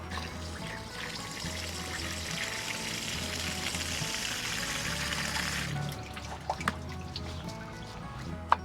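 Tap water runs steadily into a kitchen sink while vegetables are washed, a close, continuous pour that cuts off near the end and leaves a few faint clinks and handling noises.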